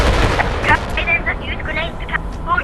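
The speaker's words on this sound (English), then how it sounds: "You can just use grenades to counter it" Grenade blasts in the Animal Company game, a rumbling boom that rolls on under raised voices talking over one another, loud and close through the whole moment.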